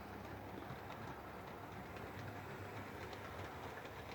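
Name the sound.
OO gauge model Lima BR216 locomotive running through tunnel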